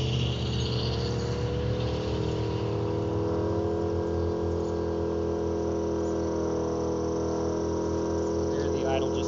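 A 2000 watt generator runs under the load of a Chevy Bolt charging session, a constant droning engine hum close by that holds steady throughout, with its idle slightly raised.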